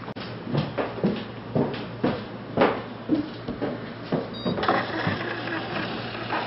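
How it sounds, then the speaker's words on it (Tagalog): A PCOS voting machine printing a copy of the national election returns, a rhythmic series of close mechanical whirring pulses from the printer, then a steadier feed hum toward the end, with no talking. "the machine is now printing one copy of the national returns"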